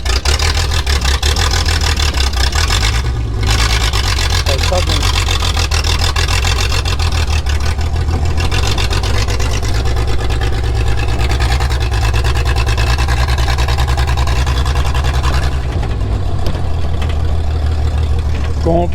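A Jeep YJ engine runs continuously and loudly nearby after a hot-wire start, with a steady idle and small shifts in pitch throughout.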